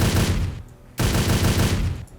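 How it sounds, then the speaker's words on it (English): A Browning heavy machine gun firing in the 7 Days To Die game, two loud sustained bursts of rapid rhythmic shots separated by a short pause, close and alone. "Browning heavy machine gun."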